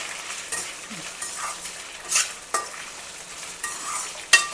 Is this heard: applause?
no